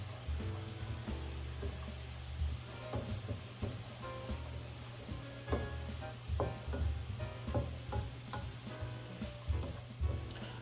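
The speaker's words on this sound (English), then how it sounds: "white onions that have been chopped up fine. Stir that around." Finely chopped white onions sizzle in a pan while being stirred, with a steady low crackle and repeated soft scrapes and clicks from the utensil.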